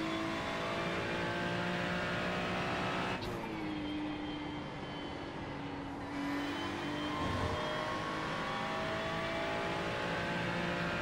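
A Ferrari 296 GT3 races at Spa in iRacing, its engine droning loudly and steadily, dropping in pitch through a gear change or braking before climbing again under acceleration.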